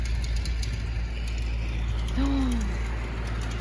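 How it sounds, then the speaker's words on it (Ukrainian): A tractor clears snow outdoors in winter with a steady, moderately distant engine drone, and a short rising-then-falling mechanical whine cuts through near the end. "Дивимося, як трактор чистить сніг."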